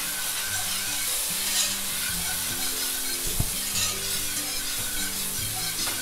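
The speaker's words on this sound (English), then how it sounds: "To that, we're going to add a 1/4 cup of red wine." Cabernet Sauvignon red wine hitting a hot pan, a loud steady sizzle with stirring scrapes and a single sharp clack of a utensil against the pan partway through, close up and without talking.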